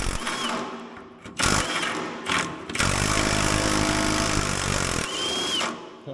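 A Milwaukee power tool runs in bursts on an Autocar Construcktor teardown: loud, close whirring drive with short pauses and restarts, then a longer sustained run, with brief whining pitch changes and no talking.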